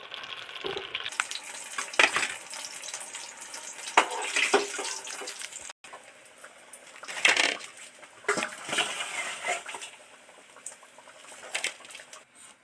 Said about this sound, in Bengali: একটা একটা তেলের মধ্যে আস্তে আস্তে ছেড়ে দিচ্ছি